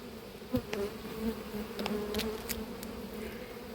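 Honey bees buzz around an open hive frame during a swarming-season apiary inspection, a steady low hum with a few sharper passes of individual bees close by, fairly quiet and with no voices.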